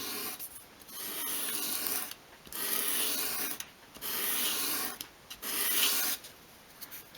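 A small wooden edge for a 1/12 scale dolls house ladder shelf is rubbed in one direction along sandpaper to bevel it, giving four close, steady rasping strokes separated by short pauses.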